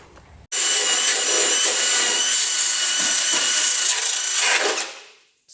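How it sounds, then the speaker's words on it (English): A power wire brush scours the metal panel of a Ford Falcon XF car under restoration, a loud, steady abrasive whir starting abruptly and running continuously before tapering off near the end. "And I'll just start by wire brushing it anyway."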